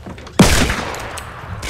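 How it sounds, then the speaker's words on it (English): A single loud revolver gunshot in the Fortnite video game lands sharply near the start and decays into a broad, noisy tail, with no talk over it. "I just one shot a guy with the revolver."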